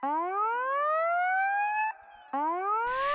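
A synthesized siren preset called Siren 03 wails in rising tones, cutting out briefly before sweeping up again, loud and alone.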